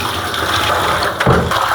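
Sea fish is rinsed under running water, a close, steady gush of flowing and splashing water with a brief louder surge near the end.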